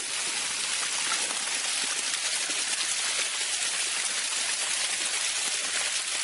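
Water trickling over a stone wall and splashing steadily, a continuous hiss-like flow with no break, close by and fairly soft.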